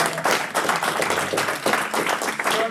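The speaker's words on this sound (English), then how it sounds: "first round of applause." A crowd applauds at a live pitch-feedback event, loud dense clapping running continuously from start to finish.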